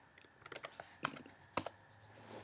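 Keystrokes on a computer keyboard while coding, a handful of quiet, uneven clicks with two sharper taps standing out, close by and with no talking.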